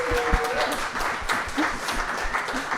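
Audience applause at a live podcast recording during the Ink Spill Festival 2024: a steady wash of clapping from a crowd, moderately loud and continuous throughout, with no talk over it.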